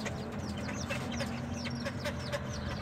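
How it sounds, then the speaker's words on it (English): Three hens and five roosters cluck and chatter nearby in a coop, a scattering of short calls from several birds over a steady low background hum. "we have 3 hens, we have 5 roosters, and they're the frisky ones"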